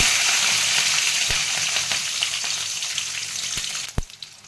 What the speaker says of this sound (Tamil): மூணு பச்சை மிளகாய் எடுத்து ரெண்டாக கட் பண்ணி வச்சுருக்கேன் அதையும் உள்ள போட்டுக்கலாம்